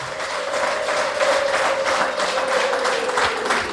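An audience at a women's development forum in Rwamagana district applauds RPF Inkotanyi with steady, sustained clapping from a crowd, even in level and moderately close throughout.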